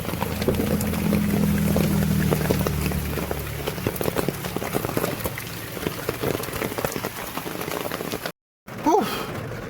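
Heavy rain pours down steadily during a trip around Haflong in Assam, a dense continuous hiss that eases slightly midway, with a brief dropout near the end.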